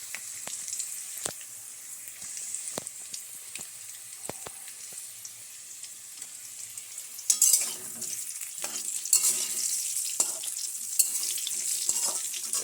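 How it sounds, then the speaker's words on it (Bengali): Potatoes fry in a pan with a continuous bright sizzle close by, broken by occasional scraping and stirring clicks, with no talking. "আলুগুলো প্রায় লাল লাল করে ভাজা হয়েছে"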